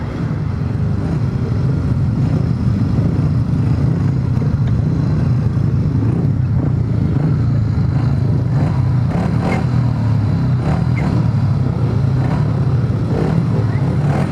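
Several grasstrack racing motorcycles roar off the start of race 17, a loud, continuous dense engine drone with rising revs and rough clatter, under faint commentary.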